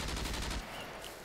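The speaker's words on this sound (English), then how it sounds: "He was shooting from south." Rapid burst of automatic gunfire in the survival video game Scum, loud and close, cracking repeatedly for about half a second before cutting off into a quieter background.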